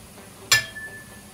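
A lid set back down on a pot of simmering pork ribs nilaga makes a single sharp metallic clink with a short ringing tail, heard close against a quiet kitchen background.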